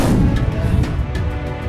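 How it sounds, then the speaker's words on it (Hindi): Cannon fire from a historic fort bastion battle, a dense, continuous low rumble of booming shots with sharp cracks recurring roughly every half second, loud and sustained throughout. "सफेद बुरुज से काले बुरुज पर तोपाओं का मारा होने लगा।"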